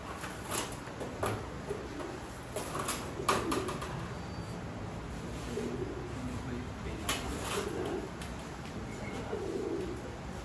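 Belgian racing pigeons bred for extreme long-distance racing coo in soft, low, repeated phrases, fairly close, with faint handling clatter and occasional quiet voices around them.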